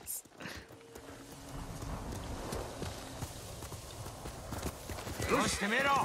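Rhythmic clip-clop of a horse's hooves galloping in Ghost of Tsushima runs steadily through the game's ambience, with a voice talking over it.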